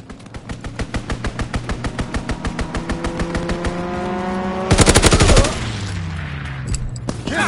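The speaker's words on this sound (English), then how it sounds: "Strafing run inbound!" Machine gun fire from a strafing run in a PS4 video game: a long rapid rhythmic burst of loud shots with engine drone beneath, capped by a dense louder volley near the end.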